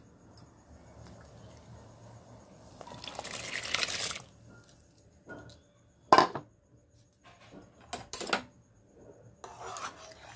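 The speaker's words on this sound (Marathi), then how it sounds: "इथे मी हे तांदूळ अर्धा तास भिजत घातले होते, अख्खा बासमती आहे। चला तर आता पाण्यामध्ये टाकून देऊया।" Soaked whole basmati rice tipped into a pot of water, a rushing, rasping pour of grains and liquid lasting about a second, followed by a few sharper clinks and splashes from the pot.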